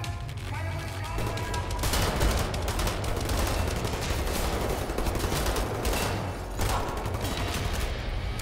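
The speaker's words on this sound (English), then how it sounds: "Stop shooting at me!" Sustained automatic gunfire in Wolfenstein aimed at the player, a loud dense barrage of rapid shots that barely lets up for several seconds.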